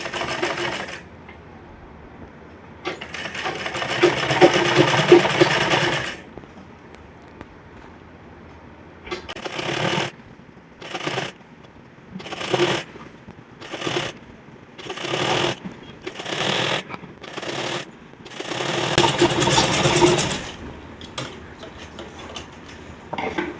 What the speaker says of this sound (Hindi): थोड़ा सा गैप देते हुए इसको भी सिल लेंगे।